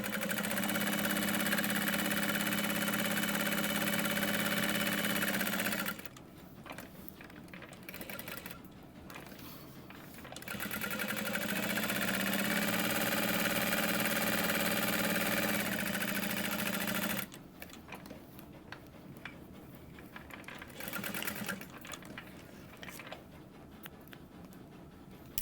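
A sewing machine runs in two long steady bursts of top stitching through a quilted trick-or-treat bag, a close, even motor whir with a quieter pause between them and a shorter stop near the end.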